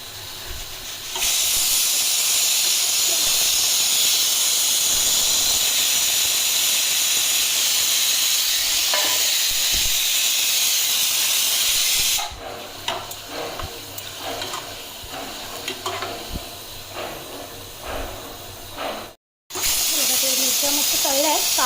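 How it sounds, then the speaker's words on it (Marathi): Papad and green chillies frying in hot oil give a loud, steady hiss and sizzle close by, then turn into softer crackling and spattering bursts with a brief dropout near the end. "आधी पापड तळून घेते त्याच्यानंतर मग मिरच्या फ्राय करेन"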